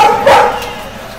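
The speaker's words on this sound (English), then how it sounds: "The dogs are commentating in the background." Dogs yip and bark in the background of a Super Smash Bros. for Wii U gaming session, a short close burst of barking with voices talking around it.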